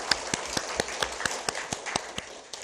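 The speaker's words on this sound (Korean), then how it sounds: "다 우리 자축의 의미로 큰 응원의 박수 부탁드립니다" Scattered applause from a small group of colleagues at a staff meeting, a dozen or so distinct, fairly sharp claps spread over a couple of seconds, moderately quiet with no voices.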